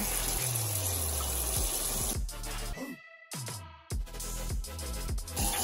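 Hot water runs from a tap in a dorm kitchen, a steady gushing stream that cuts off partway through, then resumes with splashing.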